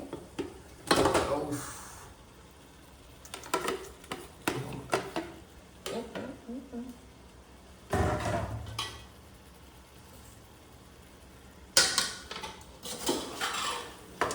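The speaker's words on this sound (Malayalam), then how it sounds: "നമ്മൾ ഇത് ഇളക്കി നമുക്ക് നമ്മുടെ ചിക്കൻ ഇട്ട് കൊടുക്കാം നമ്മളെ ഫ്രൈ ചെയ്ത ചിക്കന്" Fried chicken is stirred into biryani masala in a pan, with repeated metallic scrapes and clanks of a spoon against the pan in uneven bursts, and a voice talking between them.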